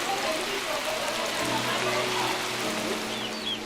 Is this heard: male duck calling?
no